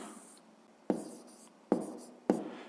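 Pen writing math on paper up close, a soft scratching stroke followed by three sharper taps or quick marks spaced about a second apart, quiet and without voices.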